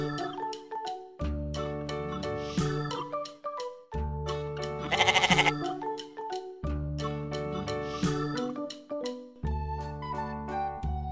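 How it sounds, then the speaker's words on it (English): A goat bleats in a series of about four drawn-out, wavering calls separated by short pauses, loud and close, with a brief jingling burst partway through. "goat"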